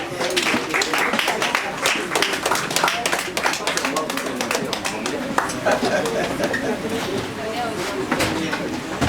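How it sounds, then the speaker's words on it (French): Dense, loud applause from an audience at a university slam evening against online sexual harassment, many hands clapping steadily throughout with voices mingled in. "Sous vos acclamations, s'il vous plaît"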